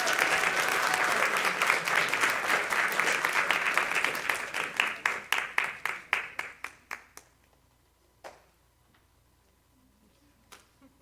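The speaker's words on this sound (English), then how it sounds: "a nice round of applause for our student with perfect attendance" An audience at a school graduation ceremony applauds a student honored for perfect attendance, with dense clapping that thins into scattered individual claps over several seconds before trailing off to a few last isolated claps.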